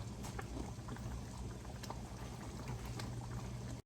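Lasagna sauce simmering in a pot, a dense, steady bubbling and popping that stays even throughout, close but quiet, with no talking before it cuts off abruptly.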